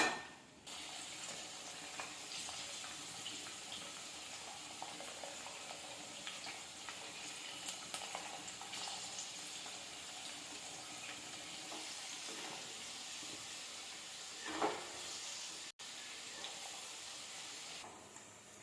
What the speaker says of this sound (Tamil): கோவக்காய் நல்லா பொரிஞ்சிடுது.